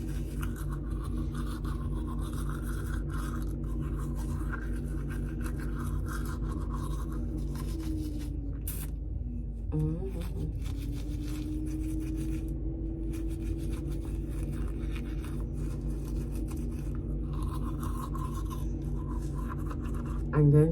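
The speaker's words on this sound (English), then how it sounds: "And then wash your teeth." Teeth are brushed with a toothbrush for about twenty seconds. The scrubbing is continuous and sits over a steady background hum, with a brief pause in the middle.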